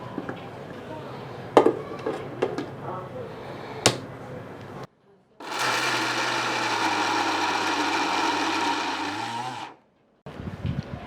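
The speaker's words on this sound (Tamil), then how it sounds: "முந்திரி அரைக்கும் போது முந்திரியை கொஞ்சம் மையாக்கிக்கிட்டு" A large mixer grinder, its jar three-quarters full of cashew nuts for kaju katli, roars in a loud, steady whirr for several seconds. It starts after a stretch of kitchen clatter and talk, then cuts off abruptly.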